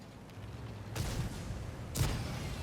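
Tank cannon fire in a tank video game, the E 65 Zwilling: two loud, sharp booms about a second apart, each with a short rumbling tail, over low engine noise.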